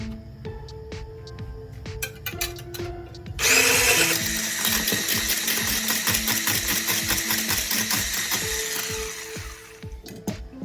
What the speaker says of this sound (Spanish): Vamos a empezar a batir un huevo.